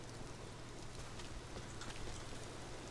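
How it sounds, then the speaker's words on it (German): Rain falls steadily in the video game Rise of the Tomb Raider, a dense, even hiss of drops on surfaces with no talking over it. "Es regnet."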